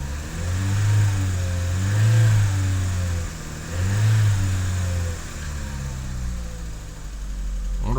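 A 2012 Chevy Cruze engine runs close by, idling with several surges of revving that rise and fall across the stretch, no voices over it.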